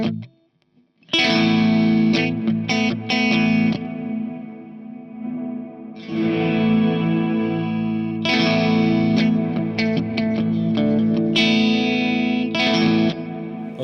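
An electric guitar played through octave, delay and reverb pedals sustains layered notes with a doubled lower octave, echoing repeats and a wide wash of reverb, swelling in phrases with brief pauses.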